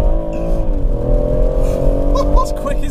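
A BMW M140i with a Motech tune accelerates hard at full throttle, its engine note loud and steady with a rising pitch throughout, and a voice speaking over it.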